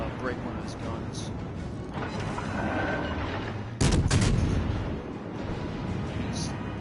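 Battleship main guns firing HE shells in World of Warships Legends, a heavy boom at mid-clip over continuous rumbling battle noise, with a player talking throughout.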